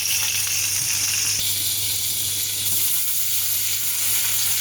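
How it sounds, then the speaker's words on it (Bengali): Sauces sizzle hard in a pan with soybean oil while spicy chow mein noodles are prepared. A steady, loud hissing fry runs the whole time, with no talking. "এখন আমরা সসেস দিতেছি আর সসটা ভাজা হবে"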